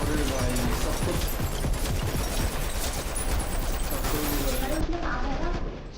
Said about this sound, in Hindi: सब मार दिए भाई इसने मशीन गन से।